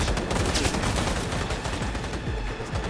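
Dense gunfire in the video game Cyberpunk 2077, a rapid, overlapping barrage of loud close shots that keeps up without a pause.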